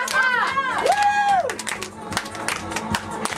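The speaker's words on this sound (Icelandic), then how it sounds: "Allir klappa! Klappa! Klappa!" A crowd claps in rhythm at a children's dance show, with steady sharp claps and cheering mixed with music and loud voices nearby.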